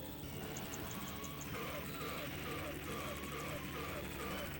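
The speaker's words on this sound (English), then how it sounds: "So the chopper, a little minigun on the chopper started coming down" Attack helicopter with a mounted minigun in the arcade game Metal Slug 3, a steady rotor drone with faint rapid gunfire mixed into busy game music and effects, fairly quiet throughout.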